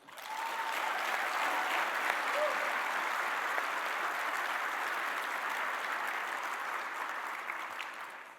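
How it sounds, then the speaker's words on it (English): A warm, sustained round of applause for contestants at an evening gala awards ceremony, steady crowd clapping that swells quickly and holds evenly before tapering off, heard from a distance in a large hall. "please join me with a warm round of applause for all contestants."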